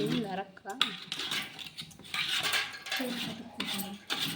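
A ladle is scraped against a pot to clear off sticky rice-flour dough, with close metallic clinks and scraping under ongoing conversation.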